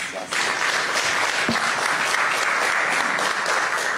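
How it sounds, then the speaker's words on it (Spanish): An audience at a Universidad Nacional ceremony claps loudly and continuously, a dense, even roar of many hands that holds without a break from start to finish. "Por favor, recibimos con muy fuertes palmas."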